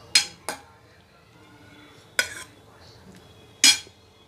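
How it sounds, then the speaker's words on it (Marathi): A kadhai set down on a home kitchen stove with utensils while cooking shravani ghevda bhaji: four sharp, close metallic clanks, two quick ones, a pause, then two more spaced apart. "कढई ठेवते, आता लगेच तेल टाकते"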